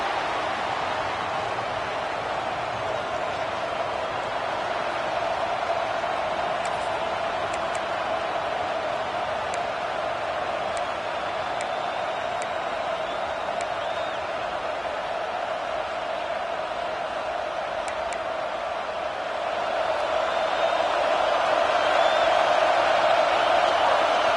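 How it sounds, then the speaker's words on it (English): Steady roar of a football stadium crowd at an Oklahoma vs Texas A&M college game, a broad continuous wash of distant voices that swells louder near the end. "This crowd ready to make its presence known."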